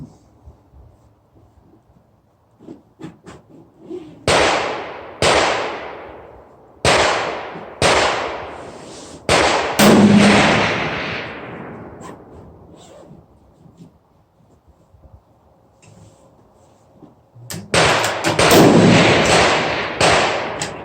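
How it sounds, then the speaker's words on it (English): A 7mm Remington Magnum rifle with reloaded ammunition fires at a 300-yard target, several loud sharp shots spaced seconds apart, each trailing off in a rolling echo across the range. "I'm shooting at 300 yards. I'm gonna do 3-shot group."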